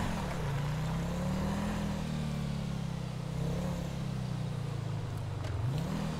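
Steady car engine drone from AI traffic driving in FiveM, a GTA V mod, with a continuous low hum that rises and falls gently as the vehicle cruises, loud and constant throughout.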